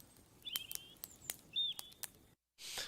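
Bird sound effect played back: several sharp chirps and whistled tweets in quick succession over a faint background, then a sudden cut to silence and a burst of noisy static.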